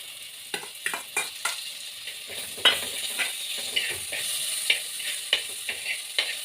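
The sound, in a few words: tomatoes added to frying onions, sizzling and stirring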